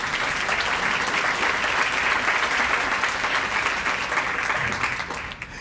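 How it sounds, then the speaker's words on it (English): An audience at an awards gala applauds in a dense, steady burst of clapping that fills the room, then tapers off near the end. "please give her a round of applause for that as well"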